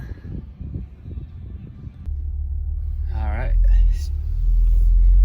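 A Jeep Wrangler JL on a test drive: after some speech, a steady low engine and road rumble sets in and grows louder, with a brief tonal whine partway through.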